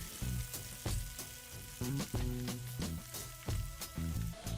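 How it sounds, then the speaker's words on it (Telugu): Chicken popcorn pieces deep frying in hot oil in a kadai, a steady bubbling sizzle broken by a series of short clattering knocks, close and quiet, no voices. "బాండీలో డీప్ ఫ్రైకి సరిపడినంత ఆయిల్ వేసి ఆయిల్ హీట్ అయిన తర్వాత చేతితో ఒక్కొక్క ముక్కను నెమ్మదిగా ఆయిల్లో వదులుకోవాలి"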